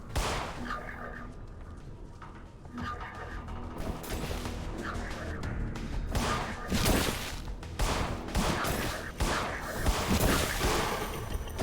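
Sustained gunfire from In Sound Mind as a full magazine is emptied into two enemies, a rapid string of loud, close shots with scattered crashes and a voice murmuring underneath.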